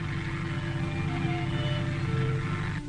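A steady droning hum of a small Piper Cub propeller plane in flight, constant and moderately loud with no pauses.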